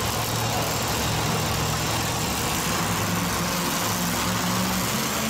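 Monster Jam monster truck engine held at high RPM in an arena during donuts, a loud, dense, constant roar with a steady low drone underneath.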